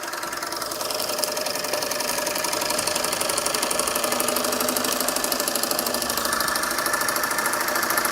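A Doll horizontal-boiler, twin-flywheel overtype model steam engine runs steadily and rapidly, a continuous mechanical chugging with a fine rhythmic knock, close up and even in loudness throughout.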